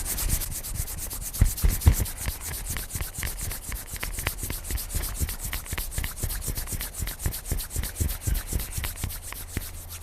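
Palms rub briskly together during a slow, gentle prenatal yoga flow, making a fast, steady, close swishing friction that repeats evenly for about ten seconds with no talking.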